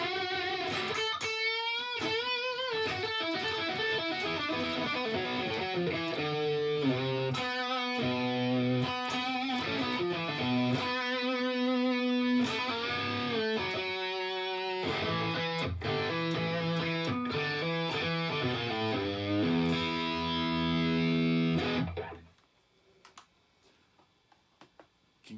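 An electric guitar with gritty overdrive from a Blues Driver pedal plays a run of picked chords and single notes for about twenty seconds, then stops and leaves near silence.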